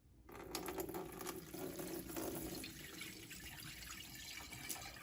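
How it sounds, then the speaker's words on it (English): Vacuum cleaner parts from a TAB T9 Pro cordless wet-dry vacuum mop are rinsed under a running tap, giving a steady, fairly faint stream of water splashing into a sink throughout, with no talk. "I'm going to rinse this up right here"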